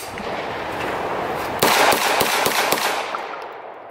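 A Beretta 92S handgun fires a quick string of sharp shots outdoors, loud and close, the reports following one another over roughly a second before fading away.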